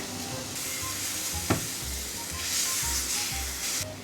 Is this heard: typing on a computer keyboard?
no